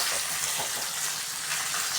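Mustard seeds sputter and crackle in hot oil for a Tamil colocasia (seppankizhangu) fry, a steady dense hiss with scattered small pops, close and fairly loud, with no talking.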